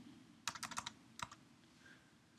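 A URL being typed on a computer keyboard, two quick bursts of close, quiet key clicks, about eight then four, followed by near silence.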